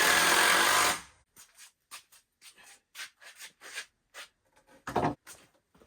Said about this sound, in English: we are taking 18-inch pieces of wood and screwing to give extra support to the bottom shelf